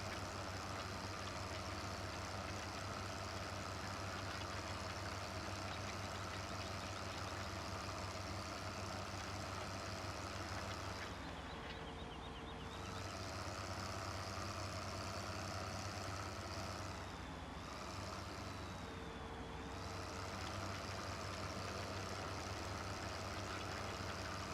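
Tractor engine in Farming Simulator 15 runs at a steady idle-like drone, continuous and fairly loud, with a brief dip and tonal whines midway, no talking over it.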